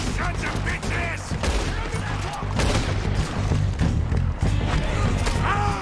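Rapid, loud gunshots and booming blasts from a Red Dead Redemption 2 gunfight against O'Driscoll gang members in the video game, sharp cracks repeating through the whole stretch while a voice talks over them.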